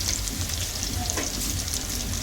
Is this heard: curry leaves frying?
yes